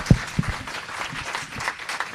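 Brief audience applause at a startup founders' event, a short burst of clapping from a room of people with a few sharper claps standing out near the start.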